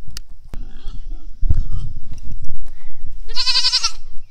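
A Nigerian Dwarf goat buck lets out a loud, close, wavering bleat near the end, following handling noises and shuffling around a goat pen during deworming.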